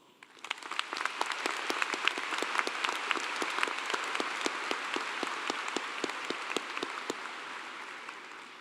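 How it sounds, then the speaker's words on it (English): A large university commencement crowd breaks into sustained applause, a broad wash of many hands clapping at moderate distance that swells quickly and stays steady to the end. "I think you all deserve a very loud round of applause."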